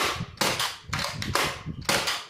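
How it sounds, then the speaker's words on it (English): A Nerf Elite Disruptor blaster fires foam darts in a quick run of about five sharp, snappy pops, each followed by a brief whirring tail, close and fairly loud with no talking. "And now we should pull the trigger to launch the bullets."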